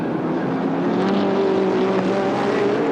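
Sports sedan race cars, including a Camaro and a Monaro, race at Sandown in a 1976 heat, their engines roaring loudly and steadily as they pass close by, with a sustained, droning howl.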